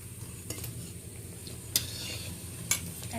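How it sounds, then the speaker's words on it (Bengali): Moringa leaf pakoras frying in refined oil over a low flame give a soft, steady sizzle, broken by a few sharp metallic clinks of a spoon against the pan, with no voices. "এই রিফাইন অয়েলে আমি পকোড়াগুলো ভেজে নিচ্ছি"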